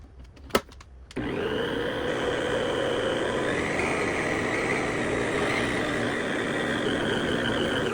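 A stand mixer starts up after a brief click and kneads buttermilk bread dough, settling into a loud, steady motor whir that runs unbroken to the end, with no talking.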